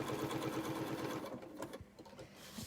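A sewing machine with a foot pedal and speed control stitching paper fabric, running steadily and close with a fast even needle rhythm.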